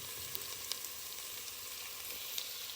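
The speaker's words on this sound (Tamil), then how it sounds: "வெட்டி வச்ச ஒரு உருளைக்கிழங்கையும் இதோட சேர்த்து நாங்கள் வதக்கி எடுப்போம்" Potato and carrot pieces sauté in butter in a pan for a chicken soup, giving a steady, close sizzle with faint scattered crackles throughout and no talk.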